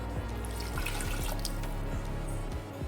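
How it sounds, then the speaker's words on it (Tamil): Water pours into a pot of little millet brinji, a continuous splashing gush with bubbling, gurgling pulses that holds steady and close for the whole stretch, with no voices over it. "2 டம்ளர் அளவுக்கு தண்ணி ஆட் பண்ணிக்கிறேன்"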